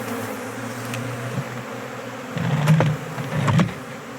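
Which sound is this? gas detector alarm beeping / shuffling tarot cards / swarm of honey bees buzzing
swarm of honey bees buzzing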